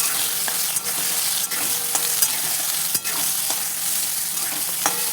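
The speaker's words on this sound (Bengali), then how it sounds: "এবার ওই তেলেই আমি সয়াবিনগুলো ভালো করে ভেজে নেব উল্টে পাল্টে" Soybean chunks frying in hot oil while being turned and stirred, a steady broadband sizzle broken by a few sharp scraping stirs, close and continuous with no talk.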